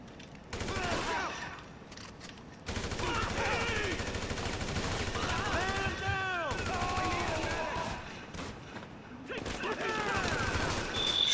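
Gunfire from the video game GTA 5, dense fusillade-like bursts running throughout the stretch, loud and continuous, with voices talking over the shooting.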